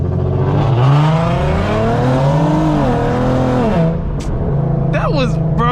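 Tuned Infiniti Q50 accelerating hard in a street drag race, engine roaring up through the revs in rising sweeps, a brief gear shift, then pulling again, loud and close with voices talking over it.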